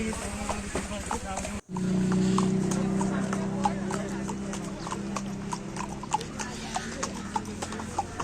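Horse hooves clip-clop in a steady rhythm during a mountain trail ride in Solang Valley, Himachal, close and clear over a continuous low hum, with voices heard faintly in the background.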